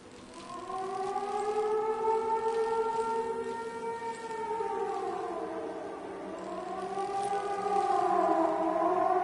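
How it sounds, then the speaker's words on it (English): A civil defense siren wails in the video game Season: A Letter to the Future, its rising and falling tone sweeping slowly and continuously at a distance, with no voices over it. "Oh my god, that is so creepy! Every time I hear the siren,"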